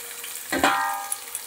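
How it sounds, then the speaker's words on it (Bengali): Chopped tomato and bean hit a hot pan, setting off a sudden close sizzle that settles into steady frying hiss with a stir or two. "ভাজতে ভাজতে আমি দিয়ে দিচ্ছি টমেটো কুচি, দিয়ে দিচ্ছি শিম কুচি"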